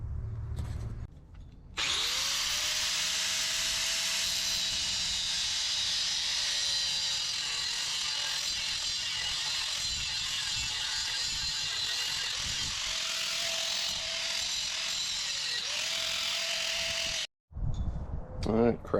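A power tool cuts through the crash bar of a Jeep JK front bumper, giving a long, loud, steady grinding whine with a faint tone that shifts pitch, then stops abruptly near the end.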